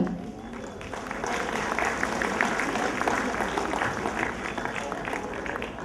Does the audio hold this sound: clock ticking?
no